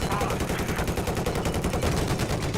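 Rapid automatic gunfire in the Battlefield video game rattles in a loud, continuous burst of closely spaced shots.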